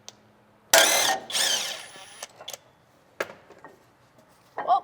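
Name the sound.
ratchet wrench removing 12 mm brake caliper bracket bolt on 4Runner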